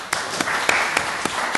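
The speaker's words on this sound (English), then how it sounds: "You have in fact given us a little time to applaud you" An audience applauding after a talk, with sparse, separate claps spaced roughly every quarter second over a soft crowd background.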